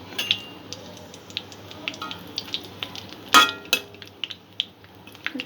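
Tangra catfish curry with dry red chillies fries in a pan over low to medium gas while being stirred. A soft sizzle runs under scattered scraping clinks of a spatula, with one sharper metal clank partway through.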